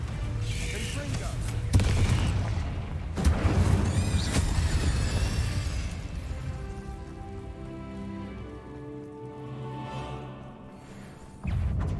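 Confringo spell cast in Hogwarts Legacy during a fight with spiders, punchy blasts in the first half followed by a crackling, fizzing fiery tail with tonal shimmer, a sharp hit returning at the very end.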